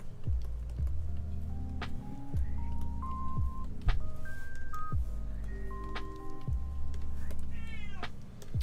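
A house cat meows repeatedly in short calls amid busy game music with beeps and tones, the meows faint and partly buried under the soundtrack.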